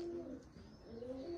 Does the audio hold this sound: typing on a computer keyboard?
no